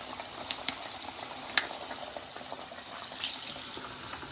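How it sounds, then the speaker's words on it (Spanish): Small fish fry in a pan of hot oil with a steady, soft sizzle and occasional pops and spatters, heard close and fairly quiet with no talking. "por aquí estoy friendo mi pescadito."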